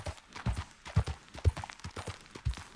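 Horse hooves clip-clopping in the Red Dead Redemption 2 video game, a steady, fairly close walking rhythm of soft thuds heard alone.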